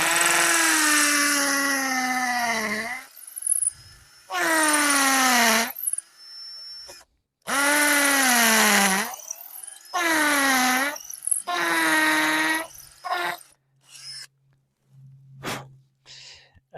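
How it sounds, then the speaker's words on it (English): A hammer drill bores into soft brick in repeated loud bursts of several seconds each, its whining motor pitch rising and falling, separated by short pauses, before a few brief quieter taps. "There's a hammer setting on this drill,"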